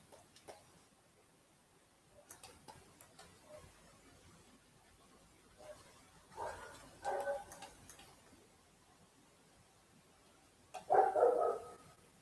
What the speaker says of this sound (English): My dog again.